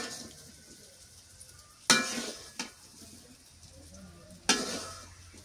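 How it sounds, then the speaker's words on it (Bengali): Fried new potatoes being stirred and tossed in a pan, with a faint sizzle underneath and three distinct scraping, clattering strokes of the utensil against the pan, close up, with no voices. "এগুলো কষান করে নিই, ভালো করে মেখে নিচ্ছি।"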